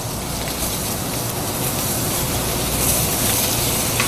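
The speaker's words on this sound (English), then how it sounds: "we're just going to give these a quick sear so we don't overcook them" Scallops sear in hot butter in a pan, giving a steady, dense sizzle that holds at a constant level with no voices.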